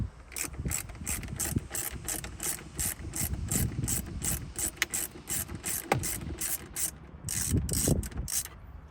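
A ratchet clicks rapidly and continuously while backing out a 7mm screw from the dash trim of a 2021-2024 Tahoe, close and crisp with a few heavier clunks.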